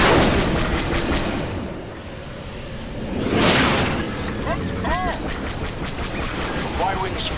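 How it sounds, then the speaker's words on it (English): Y-wing bombers make a bombing run in a Star Wars video game, a rolling series of heavy booms and surging blasts swelling and fading over a noisy battle, with brief bursts of weapon fire and a voice talking. "The Y-wing squadron successfully completed its bombing run."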